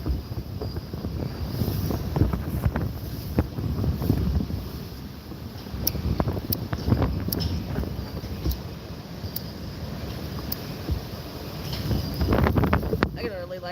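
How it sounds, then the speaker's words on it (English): Strong wind gusts roar across a microphone outdoors, a heavy rumbling buffet that rises and falls throughout, with someone talking intermittently underneath. "it's getting windy."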